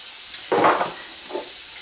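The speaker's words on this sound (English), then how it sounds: "I am heating about a tablespoon of sesame oil in here, and to that I'm going to go ahead and add a half a cup of carrots" Thin strips of carrot hit a tablespoon of hot sesame oil in a stir fry, a sudden burst of sizzling that settles to a low hiss, followed by a smaller second crackle.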